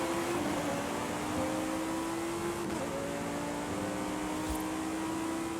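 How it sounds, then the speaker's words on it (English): Lamborghini Huracan Performante with its V10 engine in Forza Horizon 5, humming steadily at a sustained pitch that rises and falls slightly, loud and close throughout with no talking. "Our first variant of the Lamborghini Huracan. This one's the Performante. This one has that updated V10 in it."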